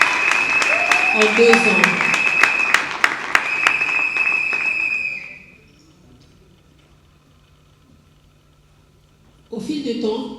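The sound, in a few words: audience applauding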